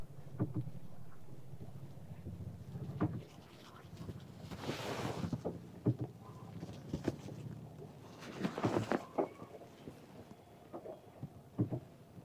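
A boat glides along a narrow water lane on Dal Lake in Srinagar, with soft water swishes and splashes rising and falling amid breezy wind noise.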